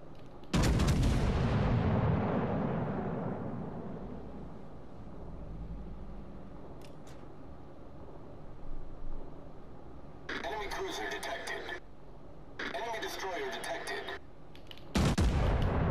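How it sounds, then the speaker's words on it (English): Warship gunfire in the naval combat game World of Warships Legends: a loud opening boom fading over several seconds, then quieter rumble, followed by two dense bursts of rapid firing and a final loud blast near the end. "Concentrate fire on the enemy warship."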